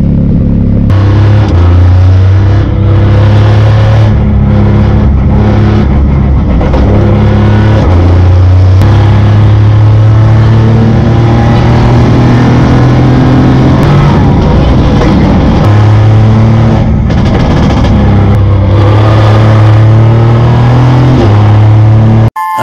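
A Subaru rally car in asphalt setup revs hard, its engine note rising and falling continuously and loudly up close, with some voices mixed in under the engine.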